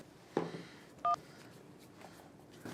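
Three short electronic keypad tones on a mobile phone ring out as a number is dialed, spaced about a second apart against a faint room hiss.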